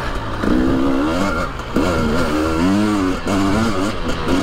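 Husqvarna TE300 dirt bike ridden through a corner on slippery terrain, its two-stroke engine revving and surging loudly and close, with brief throttle dips between bursts.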